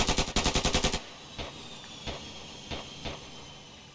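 Rapid burst of automatic gunfire followed by four single, spaced shots in the video game Ravenfield, loud and close with no talking.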